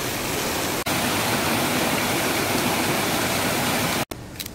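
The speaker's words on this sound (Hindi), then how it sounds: "झरने की आवाज़ आ रही है" Steady, loud rushing roar of falling water, a continuous broadband wash with two brief cuts near the start and end.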